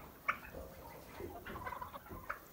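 Chickens and turkeys outdoors give soft clucks and a few sharper gobbling calls, scattered and moderately distant, over a light open-air background with no talk.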